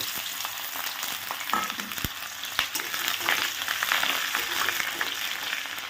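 Whole garlic cloves and chopped onion fry with black cumin seeds in a pan, giving a steady, moderately loud sizzle broken by a few sharp utensil taps.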